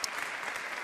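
Audience applause from a studio crowd on a French-language television show, a steady dense patter of clapping held at even loudness with no voices over it.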